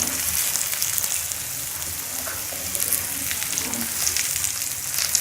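A spinach paratha brushed with ghee fries on a flat pan, giving a steady, close, even sizzle with soft crackle throughout and no talking.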